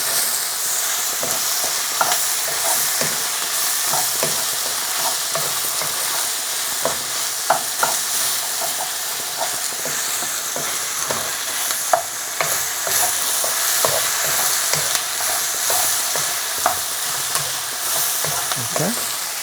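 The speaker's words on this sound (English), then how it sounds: "Right, so we're going to start stirring. As you can see, it's just starting to brown off the chicken" Chicken pieces stir-fried in a wok for a chicken and cashew nut dish, with a steady loud sizzle and frequent scraping, clattering strokes of the spatula throughout.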